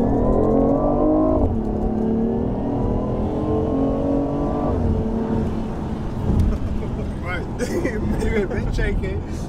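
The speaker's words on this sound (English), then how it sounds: "Let's floor it." A BMW i8 plug-in hybrid accelerating hard at full throttle on a long empty straight road, heard from inside the car as a rising engine drone that climbs through gear changes, loud and steady, with a voice briefly speaking near the end.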